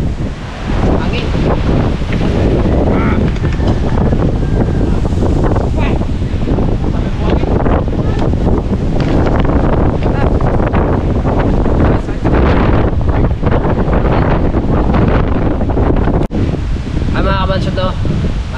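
Strong gusty wind batters the coast in the aftermath of a typhoon, roaring continuously into the microphone with rustling and surf-like noise throughout.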